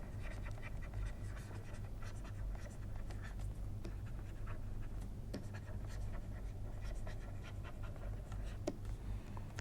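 Marker or chalk scratches and taps on a board during a lecture come in short strokes under a steady room hum, with no talking.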